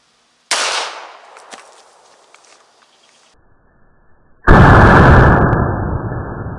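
A bathroom cleaner bottle shot outdoors: a sharp gunshot crack with a short decaying tail and scattered debris, then quiet, then a loud sustained burst as the bottle blows apart and sprays.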